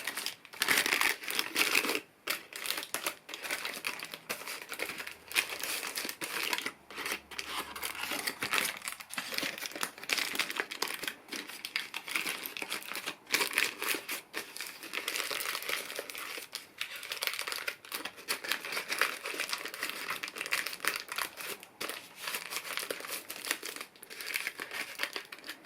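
Foil wrapped around a giant Cadbury Creme Egg crinkles and crackles continuously up close, with dense, busy rustling and sharp snaps throughout and no talk.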